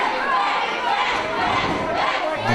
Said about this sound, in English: Crowd already starting their Max chant here.